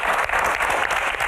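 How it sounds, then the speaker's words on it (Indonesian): Studio audience applause at the close of a televised Q&A panel show, a dense steady wash of many hands clapping, loud and continuous. "Tepuk tangan untuk Q&A malam ini."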